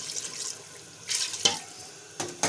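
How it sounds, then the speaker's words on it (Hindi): Water poured into a pot of aloo gosht, the spiced meat and potato curry with its oil separated, comes through as two short close splashing bursts with a gap between, over a quiet kitchen background. "अब हम इसमें ऐड करेंगे 2 गिलास पानी"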